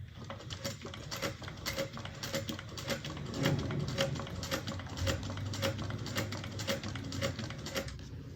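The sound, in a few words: sewing machine back stitching on a bag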